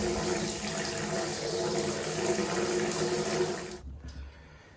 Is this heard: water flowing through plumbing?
yes